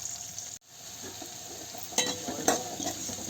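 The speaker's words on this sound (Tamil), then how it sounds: "நல்லா வந்து வதக்கிக்கலாம்" Green field beans and brinjal sauté in a pan for a village-style kuzhambu, a soft steady sizzle with a few louder stirring scrapes near the end and no talk.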